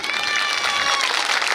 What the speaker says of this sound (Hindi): एक बार जोरदार ताली अपनी अपनी माँ के लिए हो जाए।